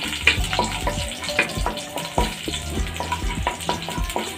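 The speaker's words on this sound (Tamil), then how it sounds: "சின்ன துண்டு இஞ்சி, ஒரு 2-3 பல்லு பூண்டு இதை சேர்த்துக்கலாம். வதக்கி விட்டுக்கலாம்." Ginger and garlic sauté in hot oil with cumin in a pan, crackling sizzle broken by repeated scraping stirs, fairly close and moderately loud, with no talking.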